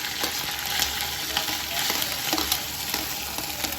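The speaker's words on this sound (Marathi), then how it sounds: "तेल आपलं आता गरम झाले त्यात आपण अद्रक लसूणची पेस्ट टाकूत. आता तर अद्रक लसूणची पेस्ट टाकली आपण त्यामध्ये आता कांदा टाकूत" Onion frying with ginger garlic paste in hot oil for a mutton biryani, a continuous close crackling sizzle with light stirring clicks scattered throughout.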